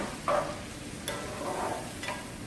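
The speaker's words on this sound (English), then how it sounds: "I'm going to add my can of diced tomatoes." Canned diced tomatoes are tipped into onion and pepper frying in a pan for an egg stew, giving a soft, steady sizzle with a brief louder splash near the start and a couple of light stirring knocks.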